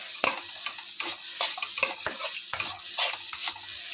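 A spoon stirs coriander powder into carrots cooking in butter for carrot rice, giving regular scraping strokes about twice a second over a soft sizzle, close and alone.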